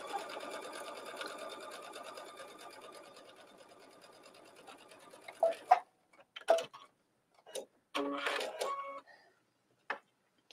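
A sewing machine stitching a stretch velvet seam, a close rapid mechanical ticking run that slows, then a few short bursts of stitching with pauses between.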